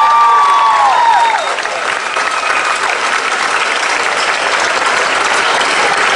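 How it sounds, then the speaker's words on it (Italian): Loud, sustained applause from an audience at the Bologna Pride 2016 committee presentation, steady broadband clapping filling the whole stretch, with faint whistle-like cheers rising briefly near the start. "quindi un applauso per tutti voi e per chi ha creduto in questa iniziativa"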